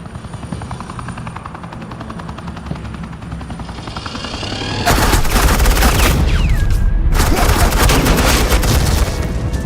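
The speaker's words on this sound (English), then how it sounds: "suppressing fire" Gunfire in a Batman game cutscene: a steady helicopter-like drone gives way to loud, sustained bursts of rapid automatic fire, briefly cut off before resuming.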